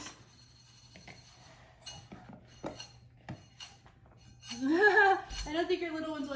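Toy pans and dishes are set down, giving a few scattered light clinks and taps, followed by someone talking close by over quiet room noise.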